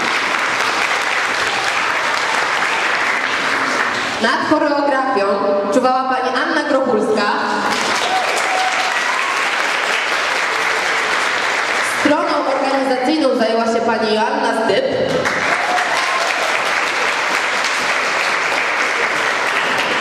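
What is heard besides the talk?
audience applause after a children's play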